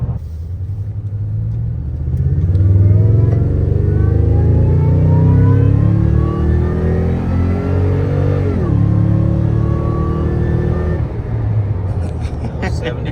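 A supercharged second-generation Toyota Tundra engine revving on a test drive: a loud, close, rumbling V8-type drone rising and falling through several long revs, with a brief dip partway through, heard from inside the truck.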